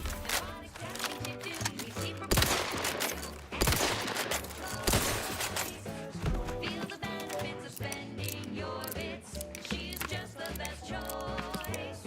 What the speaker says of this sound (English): This gun kind of cranks, but it's blowing through ammo like crazy.